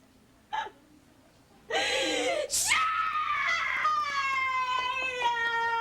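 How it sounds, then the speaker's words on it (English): A woman lets out a long, loud, anguished scream in a 1998 scene of the soap opera Another World, rising sharply and then holding a sustained wailing pitch, preceded by a brief gasp. "heard you screaming"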